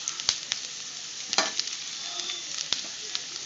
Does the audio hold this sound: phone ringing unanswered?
no